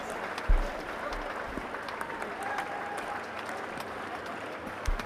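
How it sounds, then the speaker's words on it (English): Visiting supporters in the stands at a Pakistan v England Test match applaud a cricket catch with steady, sustained clapping from a distant crowd and a few louder thumps. "gratefully accepted and gratefully applauded by the visiting contingent here in the stands"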